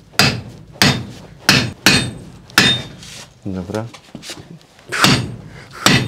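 A very long sledgehammer strikes hard again and again in a slow, even rhythm, loud and close, with brief talk between some of the blows.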